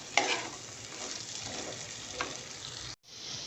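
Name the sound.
vegetables frying and being stirred in oil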